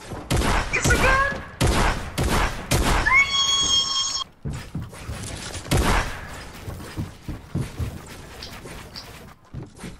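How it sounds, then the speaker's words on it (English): Gunfire in a video game comes as a rapid cluster of loud, sharp shots at the start, then more scattered bangs and impacts with game effects, all mixed with excited shouting. "It's a gun!"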